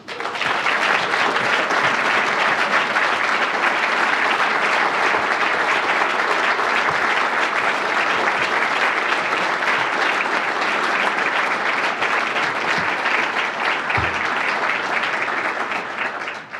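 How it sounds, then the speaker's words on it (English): Sustained, dense applause from a large audience at an NYPD ceremony fills the room evenly and steadily for the whole stretch, with no voices rising above it. "we give them a round of applause"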